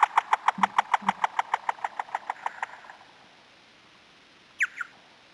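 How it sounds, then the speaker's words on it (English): A bat flying in after a moth gives a rapid train of about twenty evenly spaced echolocation pulses that quicken and fade over three seconds, then a brief pair of sharp calls after a quiet gap. "Hear its echolocation as it's coming in for that moth"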